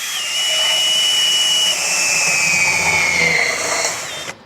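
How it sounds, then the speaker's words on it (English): A power drill whines steadily at high pitch as it bores holes through a metal reinforcement plate for a Chevy crew cab, the tone sliding slightly lower before stopping abruptly. "And I'm drilling some holes,"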